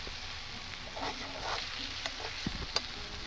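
Chicken bharta masala sizzles in hot oil in a pan while being stirred, a steady close frying hiss with a few light scraping clicks from the spoon near the end.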